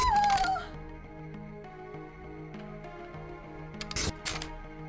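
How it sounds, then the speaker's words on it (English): Pepper spray reloading in the Deus Ex: Revision video game, a few short metallic clicks and clacks over a quiet, steady game music bed, with a voice at the start. "I like how you have to just reload pepper spray."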